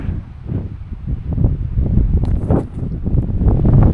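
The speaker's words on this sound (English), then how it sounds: "It is super windy out there" Strong wind gusting outdoors at the top of a mountain pass, a loud low rumbling buffet that swells and rises steadily, with a few faint higher tones near the middle and no talking.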